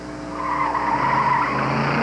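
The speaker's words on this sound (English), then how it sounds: "The car she's running is called a Deck Mustang." A Deck Mustang race car's tires squeal loudly in a sustained skid on an autocross course over a low engine roar, close and continuous throughout.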